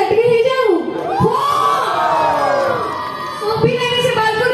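An audience at an Odia cultural evening of the Utkal Sanskrutik Samaj cheers and whoops loudly. Rising and falling shouts and high excited voices fill the hall, with a few lulls between bursts.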